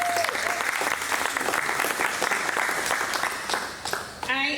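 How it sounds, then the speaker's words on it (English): Steady applause from an audience at a press conference, sustained clapping throughout with a voice starting to speak near the end. "Let's give you a round of applause."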